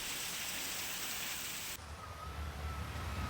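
Heavy monsoon rain falls steadily in Pune, a dense continuous hiss that shifts in tone partway through, as if the scene cuts to another spot.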